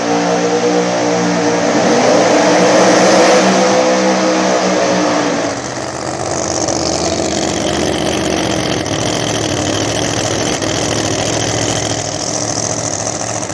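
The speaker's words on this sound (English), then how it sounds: "Hood charger versus hood charger. Screw blowers on both sides." Pro Boost drag racing cars with hood-mounted screw blowers idle loudly at a drag strip, a rough, rumbling, uneven engine chop with a rising whine, sustained and close throughout.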